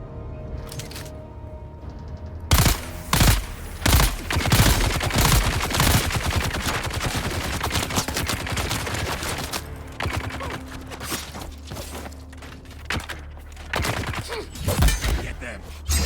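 Gunfire in the video game Dune: Awakening, with dense bursts of rapid automatic shots and heavy impacts, loud and sustained with brief pauses, a voice talking faintly under the shooting.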